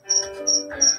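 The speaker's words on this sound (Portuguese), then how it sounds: "Está aqui um grilo gritando desde as 6 horas da tarde." A cricket chirps indoors inside a house, three short, shrill bursts in a steady rhythm, close and fairly clear against a quiet background.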